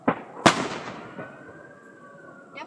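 Fireworks bursting: two sharp, loud cracks in quick succession, then a fading crackle and a faint whistle, with a smaller pop near the end and no talking.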